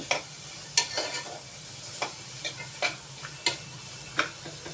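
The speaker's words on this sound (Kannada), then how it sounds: "ಈಗ ಇದನ್ನು ಸ್ವಲ್ಪ ಈರುಳ್ಳಿ ಒಗ್ಗರಣೆಯಲ್ಲಿ ಸಣ್ಣದಾಗಿ ಅದು ಬೇಯಲಿ" Steady sizzle of onions frying in a hot pan for saagu, punctuated by sharp clicks and scrapes from a utensil stirring at irregular intervals.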